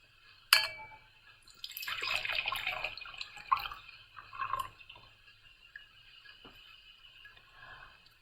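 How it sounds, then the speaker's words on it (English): Liquid poured into a glass in a brief, splashy pour lasting about a second and a half, then a few faint drips and clinks into near silence, with no talking. "Now we have to pour it in this glass."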